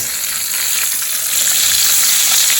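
Tautog fish fillets frying in hot oil in a pan, a loud, steady close sizzle with dense crackle that swells slightly toward the end, no voices.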